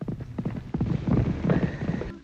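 Racehorses' hooves clip-clopping in a 1938 film, a busy run of overlapping hoofbeats with a brief whinny-like tone near the end, moderately loud and fairly close.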